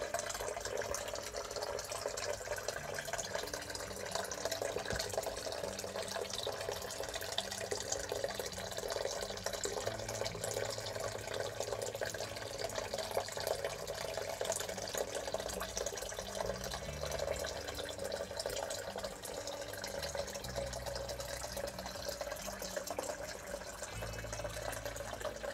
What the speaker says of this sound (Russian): А это фонтан наш. Иногда включаем, приятно посидеть.